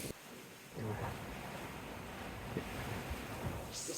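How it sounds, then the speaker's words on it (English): Strong wind at sea aboard a sailboat running under headsail alone, with a steady broadband roar of gusts and wind noise on the microphone, plus occasional thumps of water against the hull. "the winds keep picking up"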